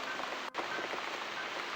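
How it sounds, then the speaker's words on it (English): Steady rain falls across the whole stretch in the video game The Cat Lady, a dense, even hiss of drops with a brief dropout about halfway through. "Looks like we've got the rain back."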